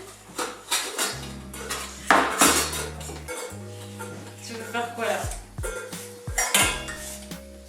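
A small child clatters toy pots, pans and cutlery in a home kitchen, with repeated close metallic knocks and scrapes in an irregular rhythm, while adults talk over it.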